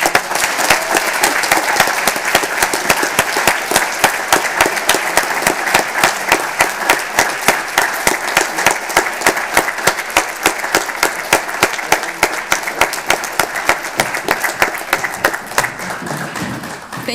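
Loud, sustained applause from delegates at a Model UN closing ceremony, many hands clapping in a fast, even roar that carries on without letup before easing near the end.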